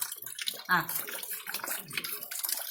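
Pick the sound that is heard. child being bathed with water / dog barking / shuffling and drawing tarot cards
child being bathed with water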